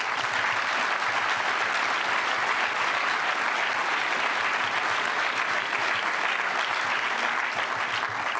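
Sustained audience applause at a memorial lecture, a dense, steady wash of clapping from a large crowd with no pauses and no voices over it.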